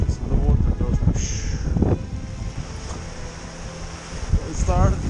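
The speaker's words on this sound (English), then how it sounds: "I got gusts" Wind gusts buffet a small sailboat on a Norwegian fjord in winter, a steady rushing roar with microphone buffeting that swells and fades, under occasional bits of a voice.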